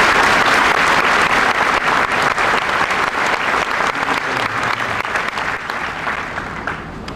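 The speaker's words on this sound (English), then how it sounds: "Let's give all these students a big round of applause." Audience applause for students at a school awards ceremony, a dense, steady clapping from a full room that carries on throughout and tapers slightly toward the end.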